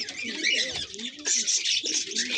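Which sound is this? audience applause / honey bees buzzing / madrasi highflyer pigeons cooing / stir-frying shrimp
madrasi highflyer pigeons cooing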